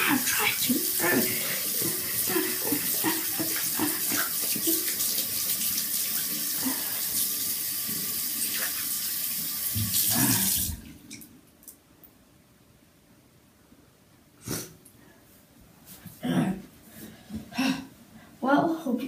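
Shower water runs as a steady close hiss for about ten seconds, then cuts off abruptly, leaving a quiet room with a few soft knocks and handling noises.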